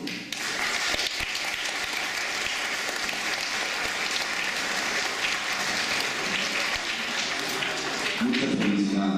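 Guests at a Purépecha wedding ceremony applaud the newly married couple, with dense, continuous clapping that holds steady throughout and a few voices emerging near the end.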